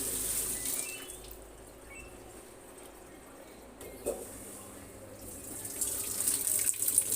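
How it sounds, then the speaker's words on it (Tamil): Tap water runs through a washing machine's repaired inlet solenoid valve, a soft continuous hiss and trickle that swells louder toward the end, with no talking. "தண்ணி வருது."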